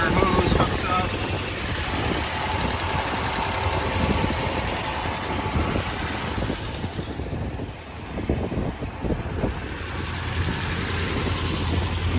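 A car engine idles steadily at close range with a rough, continuous drone, muffled by heavy wind buffeting on the microphone.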